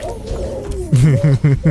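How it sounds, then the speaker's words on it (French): Baby BB in the video game Death Stranding coos in four short, soft, warbling bursts after a moment of quieter murmuring, close and clear. "Le bébé gazouille."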